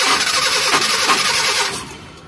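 A carbureted Mitsubishi Colt SS engine starts and revs high, a loud, close, steady mechanical roar that eases off slightly at the end.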